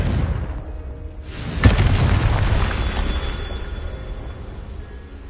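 A Confringo explosive spell goes off in Hogwarts Legacy, with a sharp, loud blast followed by a rumbling boom and crackling debris that slowly fades.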